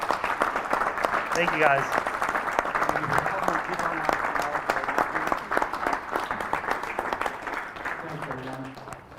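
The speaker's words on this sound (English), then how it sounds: "If we could just have a round of applause for these people." Audience applause for committee members at a conference session: a sustained crowd of clapping, loud at first and slowly easing off, with a voice speaking briefly over it.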